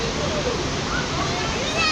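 River flowing under a bridge in Isfahan, a dense, steady rush of water filling the short stretch, close and loud, with a voice faintly mixed in.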